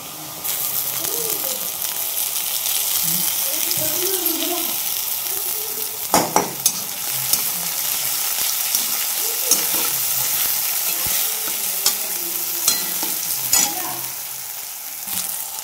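Onions fry in a pan with a constant loud sizzle for chapati pohe, and a spoon scrapes and clacks against the pan at irregular moments while they are stirred.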